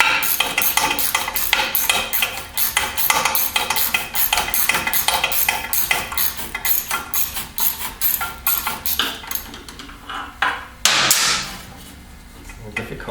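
Metallic clinking and ratcheting of a wrench working a 10 mm bolt and nut on the brake reservoir of a 2016 Victory Cross Country motorcycle, steady rapid taps close up, ending in a brief louder scrape.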